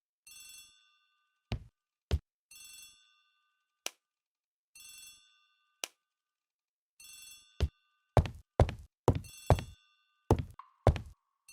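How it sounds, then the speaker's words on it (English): In an Agatha Christie: The ABC Murders video game, an old-style telephone bell in a hall rings in several short bursts with pauses between them, punctuated by loud knocks and thuds, with no one speaking. "The telephone in the hall is ringing."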